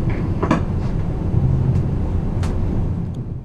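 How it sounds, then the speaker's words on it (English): A German ICE-1 high-speed train rumbles steadily past at close range, deep continuous roar with occasional brief squeaks and clicks over the tracks. "The German ICE-1 train is the first series of high-speed trains in Germany"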